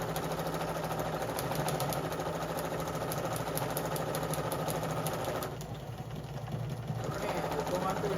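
A sewing machine stitches pant inseams, its steady, fast mechanical whir running loud and close, with a short slowdown near the end before it picks up again.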